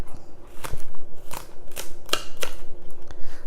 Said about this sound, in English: Just cut it into, slice it a little bit so it'll be easy to grind.